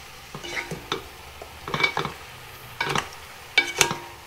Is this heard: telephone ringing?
no